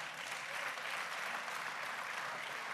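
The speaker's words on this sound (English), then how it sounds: "I thought somebody would applaud that." Audience applause, a steady wash of many hands clapping at moderate distance, even and unbroken for a few seconds with no speech on top.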